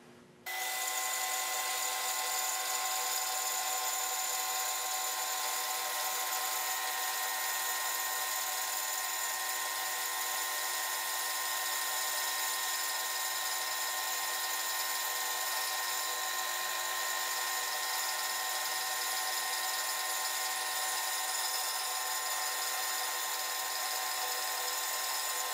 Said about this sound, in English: making this a much safer way of cutting and resawing on the bandsaw.